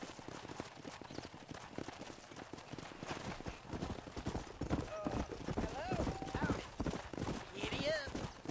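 Horse hooves clip-clop at a steady trot in the Western video game Red Dead Redemption, loud and continuous, with a neigh and a few tonal whinnies near the end while a person talks over it.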